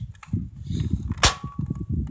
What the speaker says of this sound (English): let me just shoot it one more time